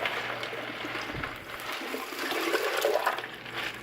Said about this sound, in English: we're going to pick this big guy up and go ahead and put in the brine solution